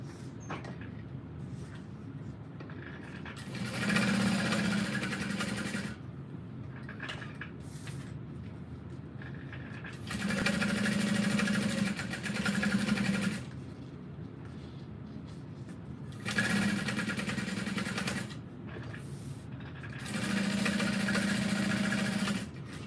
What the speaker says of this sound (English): And then we will top stitch all of that in a U shape.